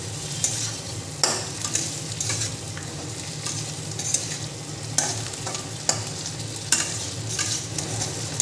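Already-fried chicken pieces stirred in a pan while cooking chicken butter garlic: a steady, close sizzle with regular scraping strokes of the spatula every second or so, no voices.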